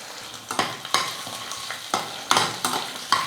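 Ginger, garlic and slit long green chillies sautéing in hot oil, with a steady sizzle broken by repeated sharp scraping stirs of a spatula roughly every half second, close and moderately loud, no voices.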